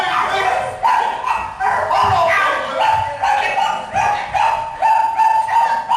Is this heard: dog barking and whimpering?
yes